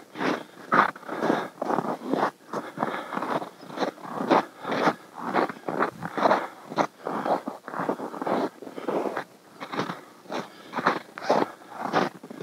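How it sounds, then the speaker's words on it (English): Sled dog paws crunch over icy snow in a fast, uneven rhythm of crisp scraping steps, steady and close throughout, with no voices. "Hopefully this crunchy icy snow didn't tear up Astro's foot too bad."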